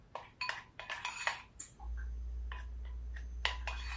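Spoon blending confectioners' sugar into creamy peanut butter in a bowl, heard as a rapid series of close clinks and scrapes, then a low steady hum with a few scattered taps.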